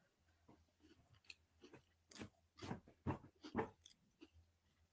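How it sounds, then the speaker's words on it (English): Someone chews an extra-large Oreo cookie close to the microphone, a series of loud crunching bites that grow stronger toward the end, with no talking. "I've never heard an Oreo chew that loud before."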